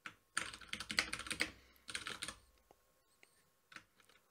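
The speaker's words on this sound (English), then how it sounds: "And as I start typing and write my text" Typing on a computer keyboard while writing a new text file in Vim, rapid close key clicks in two quick bursts, then a few sparse, fainter taps alone.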